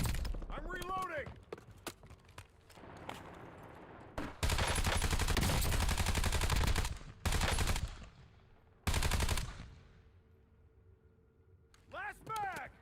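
Automatic gunfire in a video game, long loud bursts of rapid shots broken by short pauses, with a player talking over the quieter stretches.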